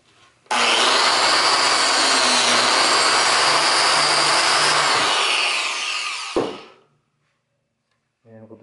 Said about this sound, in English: So we have the biscuit joiner ready.